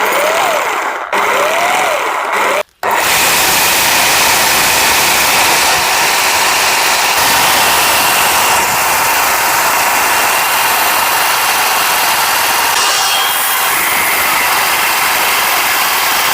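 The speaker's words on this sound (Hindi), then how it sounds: "मैं यहाँ पर ड्रिल बिट को लगाता हूँ और आपको दिखाता हूँ कि ये कितना ज़्यादा पावरफुल है" Electric drill machine with a bit fitted runs continuously at high speed, a loud steady whirring drone with a couple of brief cut-outs near the start, then unbroken running.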